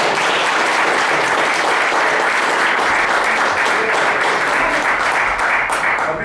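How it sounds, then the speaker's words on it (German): Sustained applause from a theater audience greeting a Green Party politician during a Magdeburg cabaret show, dense and steady clapping with no speech over it. "Bitte begrüßen Sie ihn mit einem Beifall"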